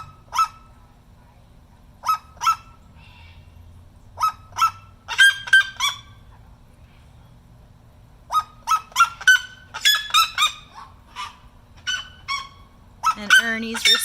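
Red-legged seriemas calling in a loud, repeated series of sharp yelping notes in bursts, one bird starting and another answering, clear and fairly close over a low steady background hum.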